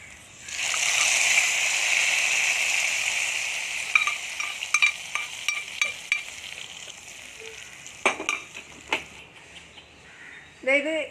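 Fried red chillies tempered in hot oil are poured into a curry, setting off a loud hissing sizzle that fades into scattered crackles and a few clinks.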